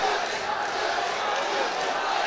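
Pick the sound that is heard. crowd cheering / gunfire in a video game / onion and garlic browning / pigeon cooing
crowd cheering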